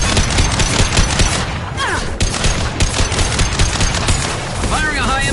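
Sustained, loud automatic gunfire from Mass Effect 2 combat, dense rapid bursts rattling continuously with booms mixed in, while a voice speaks briefly over the firefight.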